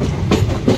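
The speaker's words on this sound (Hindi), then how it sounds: "तो भाई अपनी ट्रेन निकल ली है तिलर से" A passenger train pulls out of the station at Tilhar in India, with steady rumbling and rhythmic wheel clatter heard from inside a third AC economy coach, loud and close.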